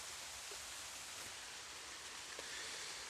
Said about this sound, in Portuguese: porque tá chovendo forte aqui no feudo.